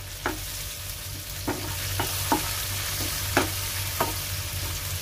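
Chopped green chilies sizzle in a pan for dal fry, with a steady frying hiss and several scraping stirs of a spoon at irregular intervals, close and fairly quiet.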